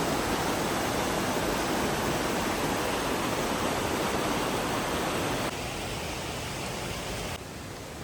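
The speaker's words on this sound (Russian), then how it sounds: "водопад рядом совсем" Peričnik waterfall in Triglav National Park, Slovenia, roars as a constant broadband rush of falling water, heard close and loud and dropping a little in level twice toward the end.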